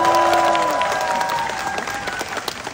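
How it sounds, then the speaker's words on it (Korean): Audience clapping at a benefit concert for multicultural families, a burst of applause with some cheering that fades gradually, while a sustained tone and voices sound early on. "제작진분들께도 박수 한번 드릴까요?"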